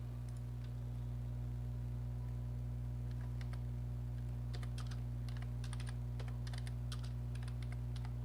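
Someone types on a computer keyboard in irregular bursts of quick clicks, moderately close, over a steady low electrical hum.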